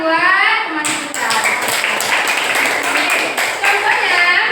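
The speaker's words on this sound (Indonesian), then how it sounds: "Tepuk tangan buat teman kita." Children's classroom applause for a fellow student: a sustained burst of clapping from a group, starting abruptly and continuing steadily with uneven patter, with voices mixed in.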